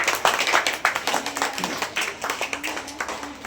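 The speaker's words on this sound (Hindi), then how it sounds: "बहुत ही अच्छा, इनके लिए जोरदार ताली।" Schoolchildren in a classroom quiz clap together in a rapid, uneven patter of close, sharp claps that continues steadily for several seconds with faint background voices.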